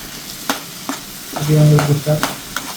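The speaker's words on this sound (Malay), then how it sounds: "asyik memasak telah pun bermula" Food being stirred and fried in a pan during cooking practice before a competition, with scattered scraping clinks of a utensil and a loud sizzling burst in the middle, close and clear with no talking.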